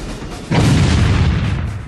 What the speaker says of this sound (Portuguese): Balas de canhão chovem sobre o estreito da Dinamarca.